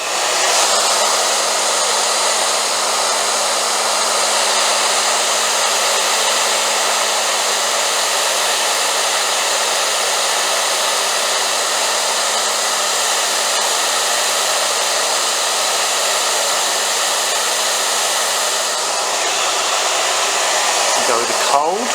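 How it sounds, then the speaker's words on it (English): Hair dryer on middle heat blowing steadily on moustache wax, a loud continuous whooshing hum with a faint tonal whine, running unbroken close to the mic with no talk. "this is where we get the hairdryer to use it again, just to set this"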